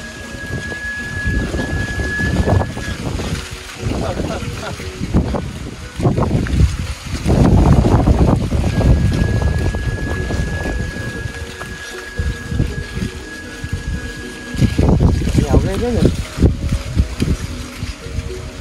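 Strong, steady wind gusting outdoors while a large kite carrying a 1 m sáo D100 flute flies in the northern wind, with a loud broadband rush rising and falling in waves and a faint sustained tone from the flute.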